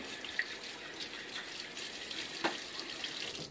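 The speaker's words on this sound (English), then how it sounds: "So let us get my face wet." Water runs steadily from a bathroom tap into a sink, used to wet the face before a shave, a soft, even hiss close by with a couple of faint splashes and no voices.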